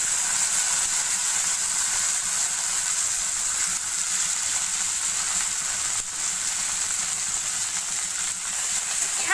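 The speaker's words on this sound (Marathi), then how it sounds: "तर आता मी तेलामध्ये गवार टाकून घेणार आहे" Cluster beans (guar) sizzle steadily in hot oil in a pan, a dense, even frying hiss that continues without a break, loud and close, with no talk over it.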